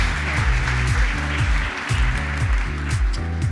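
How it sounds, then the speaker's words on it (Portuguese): Audience applause welcoming Carol to the stage at an iFood meetup, a continuous wash of clapping heard under loud, pulsing walk-on music with a heavy bass beat. "Salva de palmas."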